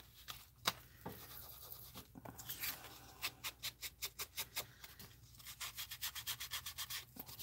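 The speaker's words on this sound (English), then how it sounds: "I want to ink the edges of this tag" An ink applicator is rubbed along the edges of a paper tag in quick, short scrubbing strokes, quiet and close, in rhythmic bursts with brief pauses between passes.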